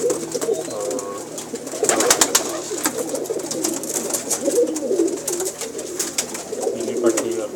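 Pigeons coo steadily at close range, a layered murmur of several birds with soft rustling and occasional fluttering throughout.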